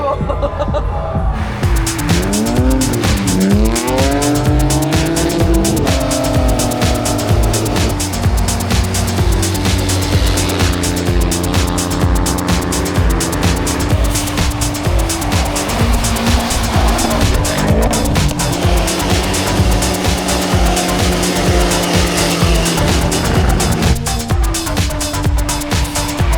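A Subaru STI drifting on the frozen Saint Lawrence River in Montreal, its engine revving hard and sweeping up and down while tires squeal and skid continuously on the ice, loud and close throughout.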